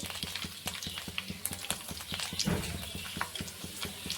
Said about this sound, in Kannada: ಸುಲಿದು ಜೈಸ್ ಕಟ್ ಮಾಡಿ ಇಟ್ಟಿರುವಂಥ ಬೆಳ್ಳುಳ್ಳಿನ ಹಾಕೊಳ್ಕತ್ತೆ ನೋಡಿ